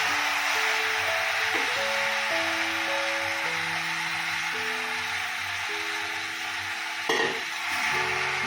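Jackfruit being stirred in a hot pan in a home kitchen, a soft continuous sizzle with a sharp clink of a utensil near the end, while sustained background music plays underneath.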